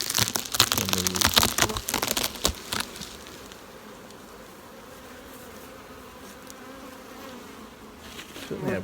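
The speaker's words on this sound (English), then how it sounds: "certainly have bees in these supers" Honey bees buzz busily up close in hive supers, loud and crackly at first with some rustling, then settling into a steady softer hum.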